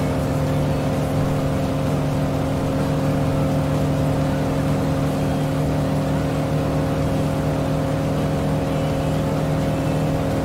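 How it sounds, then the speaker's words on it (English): Another plane passes in Microsoft Flight Simulator, heard from a Tiger Moth cockpit as a steady, loud engine drone with constant tonal hum, unchanging for the whole stretch. "It's another plane going by."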